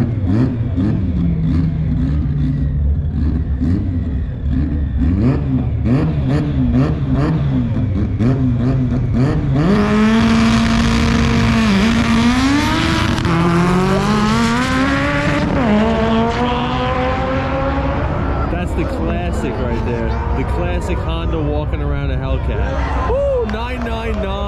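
A Honda EK hatchback at a Maple Grove Raceway event, its four-cylinder engine revving and pulling away with rising and falling pitch sweeps, loud and close, over steady crowd and traffic noise.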